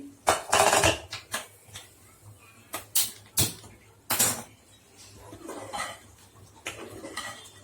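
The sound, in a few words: pot lid opened on curry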